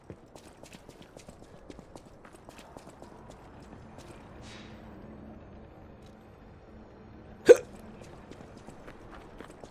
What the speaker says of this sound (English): I got the hiccups.